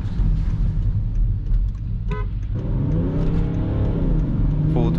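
A BMW X5 E70 3.0 SD diesel SUV with 286 hp accelerating hard at full throttle through city streets, a loud, steady engine drone that rises in pitch as it pulls, with a short higher whine partway through.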